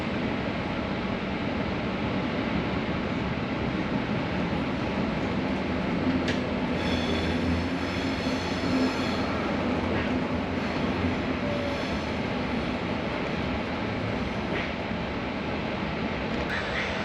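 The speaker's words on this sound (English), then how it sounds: "This ride to Pisa is going to take us 1 hour on a regional train" Inside a regional Italian train riding to Pisa, a steady loud rumble of wheels and carriage with faint brief squeals and clicks, continuous throughout with no clear talk.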